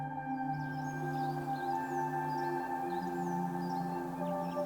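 Songbirds chirp in spring outdoors, with short high twittering calls repeating throughout, faint and somewhat distant above a steady low hum and tonal drone, likely an idling motorcycle.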